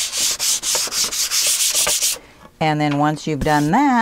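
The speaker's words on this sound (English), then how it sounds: "This is when you take your sandpaper and scuff." Sandpaper scuffing a painted artist surface by hand, in a run of quick, loud, rhythmic rubbing strokes close up, then someone talks.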